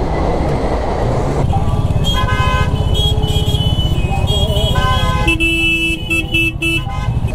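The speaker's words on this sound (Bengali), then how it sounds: "আরও একটা ট্রেন যাচ্ছে, এটা কাঞ্চনজঙ্ঘা এক্সপ্রেস।" Kanchenjunga Express train passing close by, a loud steady rumble of wheels and carriages with shrill tonal squeals and brief horn-like tones near the end.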